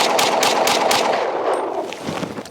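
A Springfield Hellcat Pro pistol fires a fast string of carry ammo, seven rounds in quick succession. The sharp shots are loud and close, and each one runs into the echo of the next.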